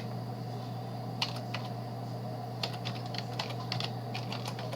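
Keys on a computer keyboard tapped in short bursts while a title is typed into a PowerPoint slide, light clustered clicks over a steady electrical hum, with no voices.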